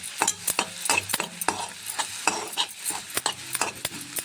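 Brain fry with garam masala being stirred in a pan: a utensil scrapes the pan in quick repeated strokes, roughly two per second, over a light sizzle of oil, close and with no one speaking.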